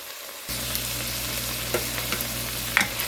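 Carrots and vegetables cooking in a soup pot with kale and sausage sizzle gently and steadily after a brief quiet start, with a few light clinks and stirring sounds nearby.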